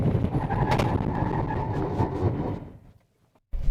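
A Mahindra XUV700 brakes hard downhill with ABS engaged, a loud rumble of tires and road noise fading as the SUV slows to a stop, then a brief thump at the end.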